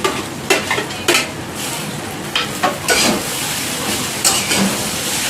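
Fried eggs being mixed into potato chowmein in a pan, with steady loud sizzling and repeated scraping and tossing strokes from a utensil.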